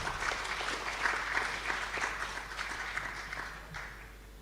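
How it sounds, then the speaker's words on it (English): Audience applause at an international seminar on low-carbon affordable housing, a steady wash of many hands clapping through the whole stretch, moderately loud and then tapering slightly near the end, with no talk over it. "please give applause again to Prof. Sas."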